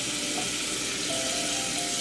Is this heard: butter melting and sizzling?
yes